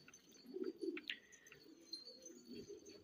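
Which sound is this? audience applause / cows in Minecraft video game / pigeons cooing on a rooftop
pigeons cooing on a rooftop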